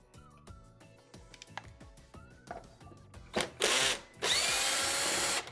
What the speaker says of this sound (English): remove the other 4 15 torx screws that are securing the crown assembly in place